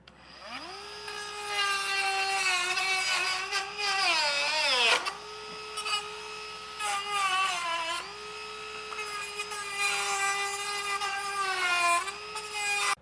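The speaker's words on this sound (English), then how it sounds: "I have a Dremel, so we'll get these cut out." A Dremel rotary tool cuts through plastic tabs on a 2020 Jeep. Its high, steady whine runs close and loud throughout, bogging down and rising again in pitch as the bit loads into the plastic.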